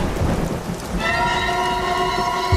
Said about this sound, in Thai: เสียงฝนดังชัดขึ้น